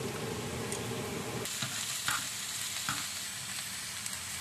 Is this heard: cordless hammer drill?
no